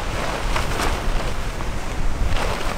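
Gusty wind rushes steadily across a forest bivouac, buffeting the microphone with a low, continuous roar and a few stronger swells.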